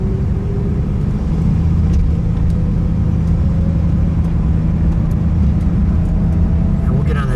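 A 1958 Buick Century engine runs steadily through a ride, its low, close rumble holding even with little change in pace.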